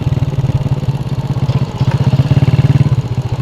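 A motorcycle fitted with a loud Altan aftermarket exhaust runs close by, its engine putting out a rapid, throbbing pulse that rises and falls slightly as it is revved.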